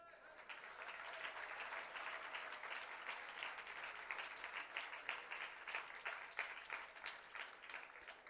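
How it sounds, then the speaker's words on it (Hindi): An audience applauds during a religious sermon at Tilwara Ghat, Jabalpur, a steady, moderately distant wash of many hands clapping that continues throughout at an even level. "ताली बज रही है।"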